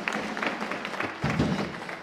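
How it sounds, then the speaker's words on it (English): An audience at a school music concert claps for the teachers, a short burst of crowd applause lasting about two seconds. "Can we have a big round of applause for your teachers,"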